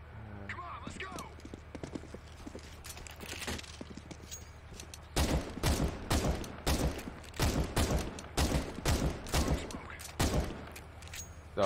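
Rapid bursts of gunfire from the video game CS:GO, a string of sharp loud shots in quick succession through the second half, following quieter game sounds.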